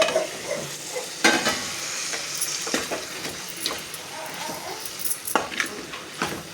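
Masala fries and is stirred in a pan, a steady close sizzle broken by sharp scrapes and clinks of a spoon against the metal.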